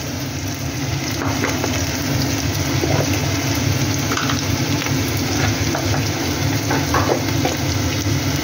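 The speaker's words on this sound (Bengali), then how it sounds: "ডুমো ডুমো করে কেটে রাখা আলুটা দিয়ে দিলাম।" Diced potatoes fry in oil in a pan, a constant sizzle over a low hum with occasional soft crackles, steady and close with no speech.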